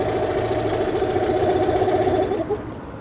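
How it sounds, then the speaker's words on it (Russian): A Hangkai outboard boat motor running slightly unevenly, a steady buzzing drone with a faint wobble that drops off near the end, loud and close with no voices. "немного неровная работа мотора – это абсолютно не показатель"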